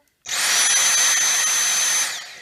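A Dyson V6 Mattress handheld vacuum cleaner starts abruptly and runs at max speed with a loud, steady high-pitched whine and motor roar, close by, then begins to wind down at the end.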